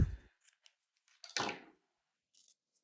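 Crochet yarn is snipped with scissors, a close, crisp cut followed by a few soft rustles and small handling clicks in an otherwise quiet room.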